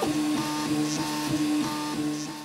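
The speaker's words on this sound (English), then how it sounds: "A4988 stepper drivers are relatively loud. And my unit had a slightly loose bolt under the bed that caused a loud vibration when the printer moved at" Geeetech A10M dual-extruder 3D printer running, its A4988-driven stepper motors giving a repeating rhythmic tonal whir with a loose bed bolt adding vibration, close and steady.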